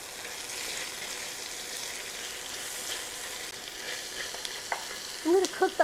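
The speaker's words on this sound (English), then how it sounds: "I'm going to cook the onions down for about 5 minutes." Chopped onions sizzle steadily in an oiled pan, a soft, continuous frying hiss, with a few sharper stirring scrapes and taps near the end.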